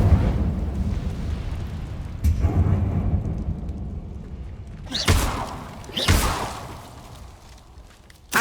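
An Incendio fire spell cast in the Hogwarts Legacy video game bursts out in several whooshing, thundering blasts over a low rumble, each flaring up loudly and then fading back.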